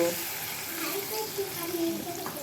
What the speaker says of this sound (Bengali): এখন হালকা একটু পানি দিতে হবে হালকা একটু